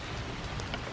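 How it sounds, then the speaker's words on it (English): Light rain falls steadily outdoors, a soft continuous patter of drops with no talk over it. "It's raining. It's not raining real bad"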